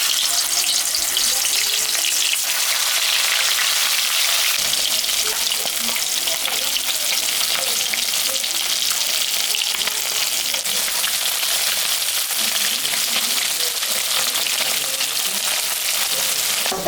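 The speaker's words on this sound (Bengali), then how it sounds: "মাছটা এখন আমি ভাজবো।" Turmeric- and salt-rubbed fish fries in hot mustard oil in a wok, a loud, dense, unbroken crackling sizzle that holds close and steady for the whole stretch with no talking.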